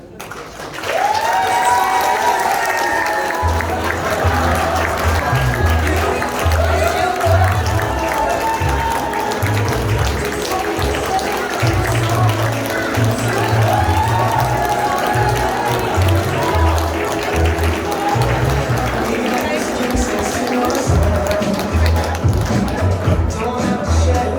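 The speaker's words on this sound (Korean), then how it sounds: "이 입장할 때 많은 박수와 환호 부탁드리겠습니다." Guests at a Korean wedding applaud and cheer as the groom enters, with sustained clapping throughout and upbeat entrance music and a low rhythmic beat underneath.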